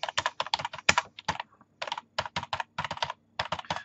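Computer keyboard typing heard up close in quick bursts of sharp keystrokes, separated by short gaps of silence, loud and clear with no talking.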